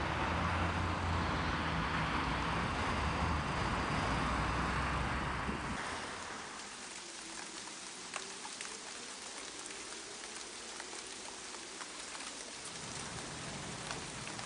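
Rain pours steadily onto a road jammed with traffic, a dense broadband hiss that drops abruptly about halfway through to a softer, patchier patter with faint low vehicle rumble beneath.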